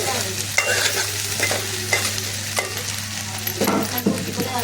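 Ivy gourds hit hot oil in a pan and are stirred, a continuous close sizzle broken by repeated scraping strokes of the spoon, alone without talk.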